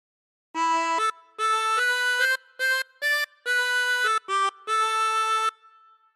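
Harmonica plays a phrase of a song from Skyrim, about nine clear sustained notes in a steady melodic rhythm with short breaths between them, close and solo with no voices.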